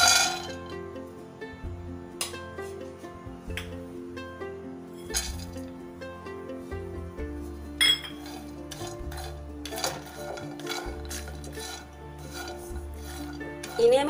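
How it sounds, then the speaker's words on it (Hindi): Pistachios, almonds, cashews and walnuts being dry roasted in a wok, with steady rattling, scraping and clinking as the nuts are stirred against the metal, close and continuous over background music. "अब मैं कढ़ाई में पिस्ताचियो, आलमंड्स, कैशियो और वॉलनट ऐड करूँगी और उन्हें ड्राई रोस्ट करूँगी"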